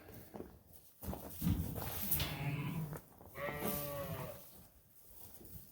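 Sheep bleating in a barn pen during the lambing season, several calls spread through the stretch, close and fairly loud, with bits of shuffling movement between them.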